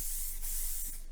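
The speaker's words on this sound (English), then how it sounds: "So I'm just gonna do a light spray." Living Proof Flex Hairspray released in one light continuous hissing burst from a nearby aerosol can, steady and close, with no talking.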